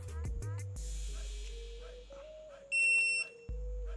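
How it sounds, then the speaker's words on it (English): A single sharp electronic beep from a solar-powered car gadget as its set button is pressed sounds briefly and close by, standing out against a low steady hum. "Did you hear that? Beep."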